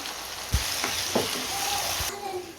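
Ginger garlic paste sizzles in a hot pan as the base for a chicken gravy, a steady frying hiss broken by a few low spoon knocks and scrapes against the pan.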